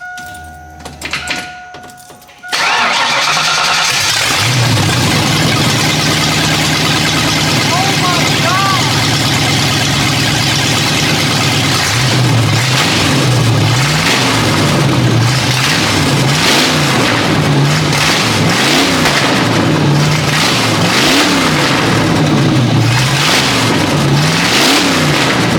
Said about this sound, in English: just out of curiosity, how she sounds with open headers.